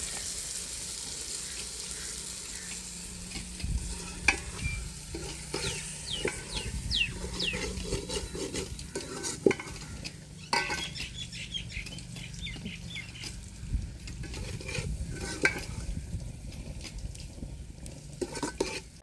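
Potato and taro fry after tempering with a low, continuous sizzle, broken by frequent clinks and scrapes of a utensil against a pot at close range.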